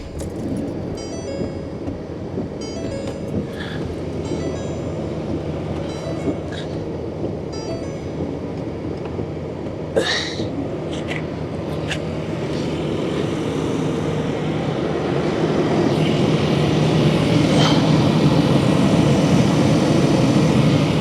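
Engine of a 2020 Ford Ranger idles steadily just after an oil change, a low, even hum that grows slightly louder and rougher toward the end, with a brief metallic knock partway through.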